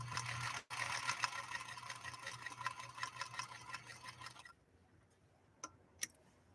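Centennial Singer sewing machine stitching at a longer stitch length: a fast, steady mechanical ticking for about four seconds, then it stops, leaving a few quiet clicks.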